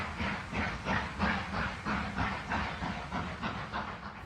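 The last public steam train pulls out of Paddington station, its locomotive chuffing in a regular, slow rhythm of roughly two beats per second, hissing steam between beats at a moderate distance.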